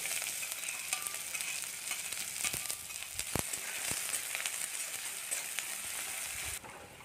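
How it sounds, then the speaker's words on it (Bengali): Chopped onion and garlic sizzle steadily in a hot pan, a continuous close frying hiss with occasional crackles and a few stirring knocks. "চলুন বন্ধুরা আমরা পেঁয়াজটা রসুনটাকে ভেজে নিই"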